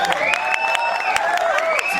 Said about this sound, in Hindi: एमी विर्क के लिए जोरदार तालियां लेडीज एंड